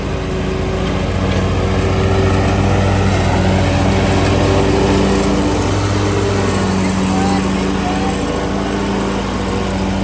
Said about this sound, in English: it's making a couple little rattling noises, but beautiful mower